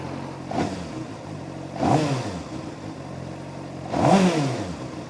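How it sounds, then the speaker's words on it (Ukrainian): A Honda CB600F Hornet motorcycle engine revs up three times in short bursts over a steady idling hum, each rev rising and falling, fairly close and moderately loud. "Моторчик працює дуже добре."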